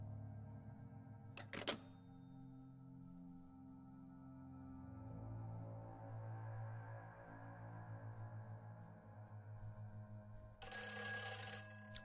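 A telephone rings inside the survival horror video game Silent Hill 4: The Room, a short ringing burst near the start and another near the end over a steady low game hum.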